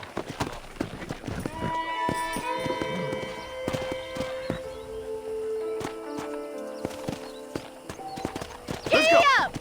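Horse hooves clip-clop at a trot in the Red Dead Redemption video game, a steady rhythmic beat under game dialogue, with a horse whinny near the end.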